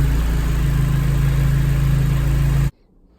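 A Lotus Elise race car engine fitted with a new exhaust and manifolds drones at a steady, loud idle-like hum for most of the clip, then cuts off abruptly into near silence.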